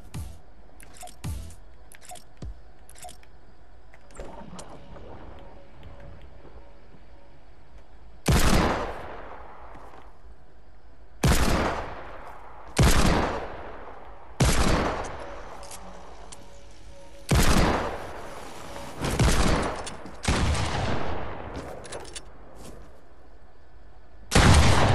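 Sharp, heavy shotgun blasts from the video game Fortnite, played on a creative island covered in ice, ring out about eight times in loud, evenly spaced bursts after a quieter stretch of scattered clicks and faint effects.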